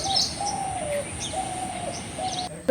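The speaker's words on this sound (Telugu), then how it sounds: "సైలెంట్గా వినండి బర్డ్ సౌండ్స్ వినబడతాయి" Morning birdsong outside a home: pigeons coo in low repeated phrases while smaller birds chirp briefly, fairly close and steady, ending with a short rustle.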